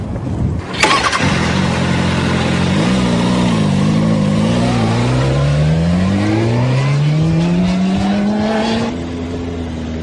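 A motorcycle engine starts with a sharp burst, then steadily accelerates, its pitch rising and dipping through gear changes during a ride, loud and close before easing off near the end.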